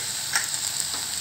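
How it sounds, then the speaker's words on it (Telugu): Crushed garlic paste hits hot tempering oil with dried red chillies, giving a steady close hiss of frying that swells briefly near the start, with no voices. "ఇప్పుడు దంచి పెట్టుకున్నటువంటి వెల్లుల్లి ముద్దను వేసుకున్నానండి"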